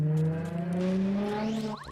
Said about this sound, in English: all the loud cars today